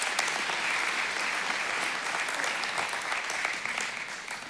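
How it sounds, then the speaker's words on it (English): Audience at a men's conference applauding Grant as he comes up onto the stage; steady, dense clapping from a large crowd fills the whole stretch at an even level, with no talk over it. "Give Grant a humongous round of applause right now."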